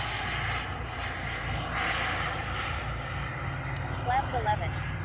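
An Aerofoam L39 radio-controlled model jet comes in to land, its engine a steady, moderately distant whine held throughout, with a few faint high chirps near the end.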